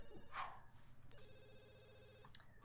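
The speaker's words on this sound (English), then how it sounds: "Well, the phone is making sounds." Telephone ringing in The Sims 2, a steady electronic ring with sustained tones, quiet and alone.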